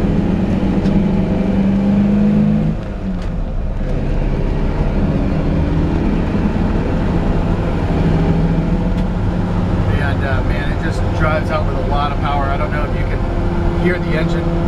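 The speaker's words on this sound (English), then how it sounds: "Hear the engine purring." A 1953 Ford F-100 pickup truck engine on the road, a steady low rumble that runs throughout at close range beneath someone talking.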